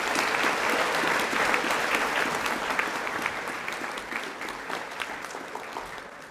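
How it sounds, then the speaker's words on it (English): Audience applause for prize-winning students at a high school co-curricular prize giving, sustained even clapping that gradually thins and fades toward the end. "a round of applause for these students"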